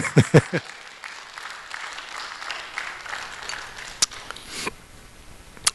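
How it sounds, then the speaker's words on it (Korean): A church congregation claps during a sermon, a few sharp claps up front, then a soft, steady patter of applause with scattered louder claps, moderately distant. "그럴 땐 감사하다고 하면 박수를 쳐도 되는데"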